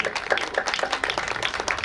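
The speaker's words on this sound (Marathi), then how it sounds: "जोरदार टाळ्या होऊ द्या" Enthusiastic audience applause at a cultural programme, dense rapid clapping from many hands sustained and steady throughout, fairly close and loud with no talking.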